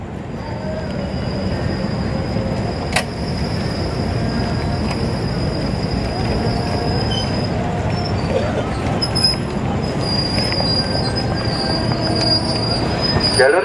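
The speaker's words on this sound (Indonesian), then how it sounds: "Jalur 3 kereta api melintas langsung" A KRL Commuter Line train passes straight through an Indonesian station on track 3 with loud, continuous wheel squeal and rumbling rail noise, filling the whole stretch without pause.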